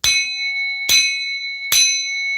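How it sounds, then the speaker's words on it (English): A ringing bell struck three times at an even pace to cleanse energy, each strike sounding loud and bright with a sustained shimmering tone that rings on until the next hit. "I'm going to bang this bell to just, I want to bang it."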